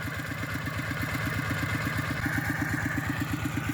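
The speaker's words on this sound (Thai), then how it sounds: "มีรถไถมา ผ่านเลยเนาะ" A tractor passing through a dry-season rice paddy at evening, its engine chugging in a steady, rapid beat, close and loud throughout with no talk.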